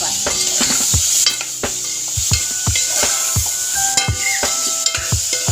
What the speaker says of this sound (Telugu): ఇలా నానబెట్టిన పచ్చి బఠానీ వేసి కలపాలి.